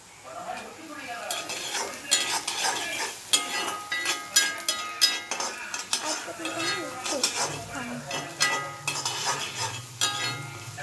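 Curry leaves sizzle and crackle as they hit hot oil in a cooking pan, with steady metallic scraping of a spoon stirring, close and fairly quiet, no talking.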